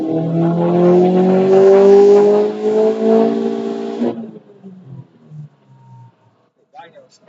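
A 2011 Subaru STi turbocharged engine with a Cobb 20G turbo revs loudly on a dyno in sport mode with added boost, its steady harmonic drone climbing for several seconds before cutting off and fading, with people speaking afterward.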